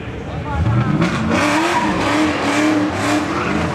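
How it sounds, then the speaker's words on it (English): NASCAR race car at Seekonk Speedway spinning a 360 to warm its tires, with loud engine roar and sustained squealing tires, while an announcer talks over it. "This guy's gonna do a 360. I guess he's warming up his tires or Farnham's had something."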